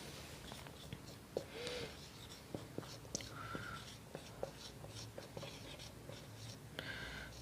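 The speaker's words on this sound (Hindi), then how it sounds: "यहाँ लिख देता हूँ," Chalk or marker writing on a board during a Hindi geography class, heard as a series of short scratchy strokes and taps with pauses between them, close and fairly quiet, with no talking over it.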